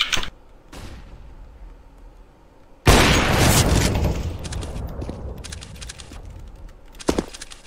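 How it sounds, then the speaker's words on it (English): A flashbang grenade in CS:GO goes off with a sudden loud burst that decays into a long ringing, noisy wash, with smaller clicks and a sharp pop near the end. "I'm throwing a flashbang"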